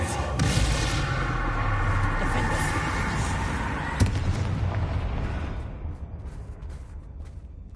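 Confringo fire spell exploding in a Harry Potter video game: a loud, roaring blast that rumbles on for several seconds with a sharp crack partway through, then thins and fades. No talking.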